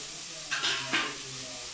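Tomatoes and onions sizzle in a hot pan, with two short bursts of hissing and scraping as they are stirred over a steady background frying hiss.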